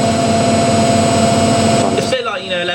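A Samsung EcoBubble WF80F5E2W4W washing machine in its spin cycle whirs at high speed with a steady, loud tonal hum, close by, then shifts abruptly near the end as voices talk over it.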